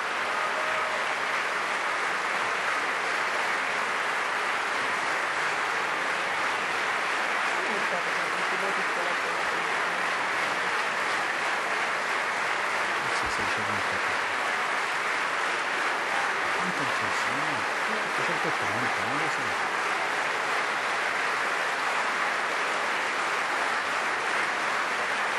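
Sustained applause fills the Italian Chamber of Deputies during the 2015 vote electing the President of the Republic, a steady, dense wash of clapping lasting the whole stretch, with voices mixed in.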